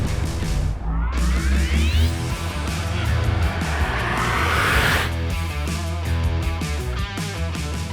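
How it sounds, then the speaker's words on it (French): A Ford F-150 Lightning electric pickup with a 131 kWh battery and 580 horsepower accelerates hard, a rising electric motor whine over steady road and tire roar, loud and continuous throughout. "juste pour vous donner une idée de l'accélération de ce véhicule"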